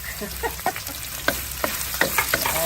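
Ginger and garlic fry in a pan for a mudcrab and coconut milk dish, giving a steady close sizzle broken by scattered scraping stirs and sharp crackles, with no voices.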